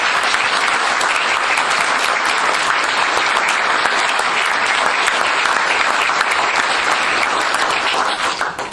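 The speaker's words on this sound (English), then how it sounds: "let's give it a round of applause" Sustained audience applause fills the room at the close of a House District 51 candidates' debate, steady and dense throughout, tapering slightly at the very end.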